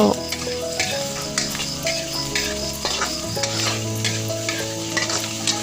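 Thai pork sausage stir-frying with ginger in a pan with a little oil, a loud continuous sizzle broken by repeated sharp scrapes and clacks of a utensil stirring against the pan, with no talking.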